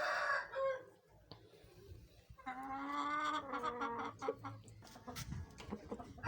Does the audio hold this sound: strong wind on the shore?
no